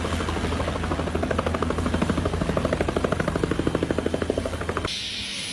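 Helicopter rotor thumping steadily and loudly for about five seconds as the aircraft flies in bringing pizza and supplies, the rapid chop holding strong before cutting off abruptly near the end.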